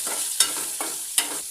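Green chillies with turmeric and salt sizzle in a pan while a spoon stirs them, with a few quick, close scraping strokes over a constant frying hiss.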